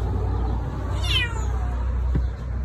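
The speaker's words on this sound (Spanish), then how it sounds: "gato." A single cat meow rises and falls in the middle of a steady background hum, clear and fairly close, with no voices.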